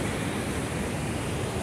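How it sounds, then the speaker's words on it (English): Rushing water at Vøringsfossen waterfall in Norway makes a constant, broad roar with some wind buffeting. It stays at an even level throughout, with no talking. "here's the waterfall."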